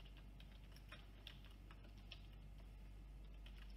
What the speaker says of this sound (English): I will type change in distance